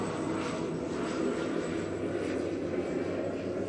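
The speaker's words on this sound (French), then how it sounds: "Regardez, il y a un avion qui passe." An airplane passes overhead on Saint-Barth, its engine drone a steady, broad rumble that holds level and fairly loud throughout, with no voices over it.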